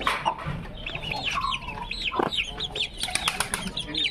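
Young Aseel chickens on a farm in Mumbai clucking and chirping close by, with occasional bursts of wing flapping amid the flock's steady chatter.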